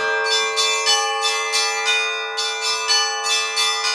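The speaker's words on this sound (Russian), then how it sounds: "В ночной тишине звон колоколов" Church bells ring at night during Easter celebrations in Transnistria, a dense, continuous peal of overlapping bright strikes in steady rhythm, loud and resonant with no voices.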